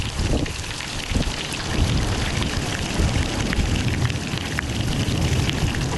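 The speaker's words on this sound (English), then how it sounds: "the rain has just been dogging us since we've been here" Heavy rain pouring steadily at the ancient stone ruins built by the Shona people in Africa, a dense, continuous hiss of drops hitting surfaces, loud and close with no talk.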